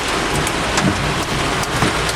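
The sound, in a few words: heavy rain and hail in Florida thunderstorm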